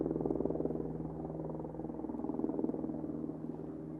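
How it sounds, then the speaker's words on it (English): A steady, throbbing low rotor chop of a helicopter over the town of Łódź, Poland, continuous and fairly loud, with a rhythmic pulsing beat throughout. "Helicopter."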